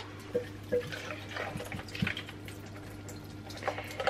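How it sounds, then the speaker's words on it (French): Water from the receptacle of an Ultenic T10 robot vacuum mop being poured out, a faint trickle and splash with a few scattered drips and light handling clicks, no talk. "je vais vider l'eau qu'il y a dedans"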